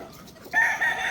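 A breeder rooster crows once, a short bright call that starts abruptly, close by and clear with no voices.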